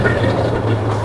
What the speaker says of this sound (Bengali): এখন ট্রেন যাবে আপনার